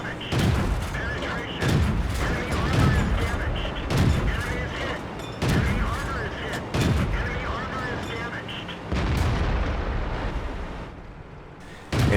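Rapid autocannon fire from an AMX 13 57 light tank in the World of Tanks video game, heavy booming bursts repeating every second or so over a constant roar of battle noise and engine rumble.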